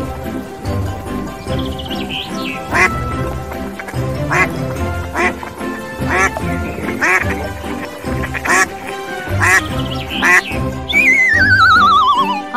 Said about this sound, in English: Q for quack.